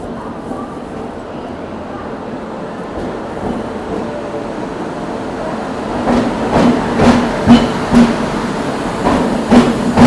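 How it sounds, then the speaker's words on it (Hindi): The Paschim Express, running between Mumbai Central and Amritsar, rolls into Ambala Cantt station with a steady rumble that grows into rhythmic clattering wheel beats toward the end, heard close by over platform ambience. "और ये आ गई है पश्चिम एक्सप्रेस, मुंबई सेंट्रल से अमृतसर और अमृतसर से मुंबई सेंट्रल के बीच चलने वाली ट्रेन है"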